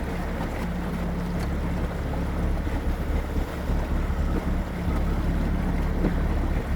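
A boat cruising on Lake Glenmaggie, with a steady low engine drone and water rushing past the hull, buffeted by wind noise across the microphone throughout.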